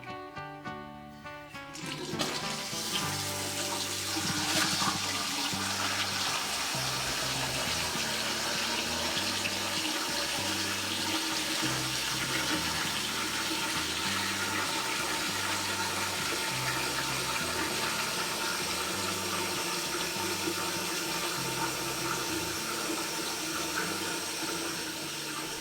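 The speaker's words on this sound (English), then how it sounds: "So if I just open this tap and fill the bucket." Water gushes from an opened tap into a bucket while a newly installed system is flushed through, a steady, loud, continuous rush that lasts the whole stretch with no talking.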